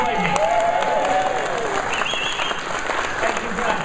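Audience applause and cheering at the AusLUG 2013 conference keynote, a steady wash of many hands clapping through the whole stretch with scattered whistles and voices in the crowd.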